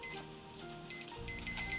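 A kitchen timer beeps in short high bleeps while sushi rice simmers on low heat, the tones faint and repeated over a soft, steady background hum.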